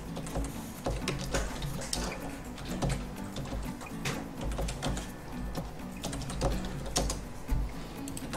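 Computer keyboard keys clicking in quick, uneven bursts while entering AutoCAD offset values and Enter presses, close and moderately loud over a low steady hum.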